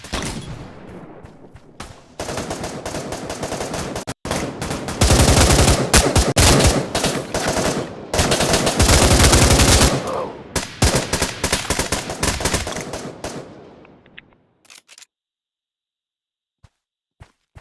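Gunfire in the VR shooter Pavlov: dense bursts of automatic fire and rapid shots, loud and close, running in long volleys with brief gaps before stopping and leaving near silence.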